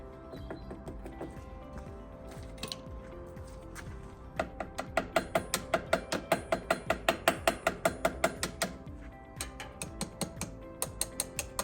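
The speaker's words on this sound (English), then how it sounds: "Tap the brake hoses and the caliper." Tektro mountain bike brake hoses and caliper tapped during a brake bleed, a rapid run of sharp metallic clicks and ticks in a steady rhythm, close and moderately loud, with short breaks and no talking.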